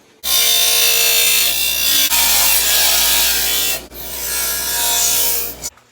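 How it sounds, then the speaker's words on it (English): An angle grinder smooths a welded metal body patch panel in a loud, steady, continuous grind. It dips briefly twice and then cuts off. "I think the grinder will clean that up"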